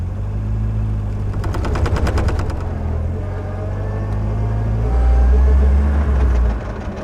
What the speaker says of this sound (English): There, you can hear the clattery noise.